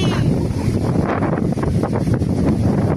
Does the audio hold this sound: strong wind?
yes